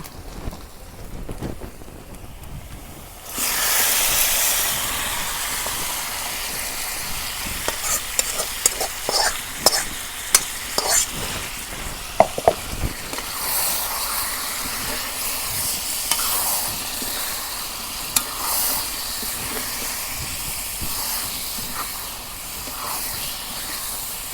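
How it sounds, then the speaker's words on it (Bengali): Beef pieces hit hot browned oil in a pan and sizzle loudly, with steady frying hiss and repeated scraping, clattering stirs from a spoon throughout, no talking. "এখন আমি মাংস বাগার দিব।"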